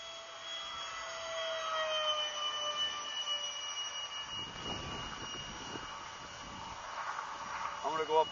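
Model F-16 jet plane flying overhead, a steady high whine that holds and shifts slightly in pitch at a moderate distance, with people talking in the background.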